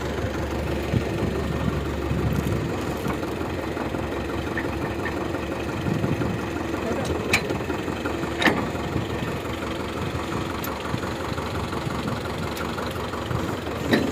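A tractor engine idles and rumbles steadily while a damaged trolley is lifted on a farm, with occasional metallic clanks over the continuous drone.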